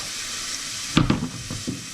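Ingredients for a fisherman's soup sweating in a pan with a steady close sizzle, then a few louder clatters and scrapes as the contents are stirred.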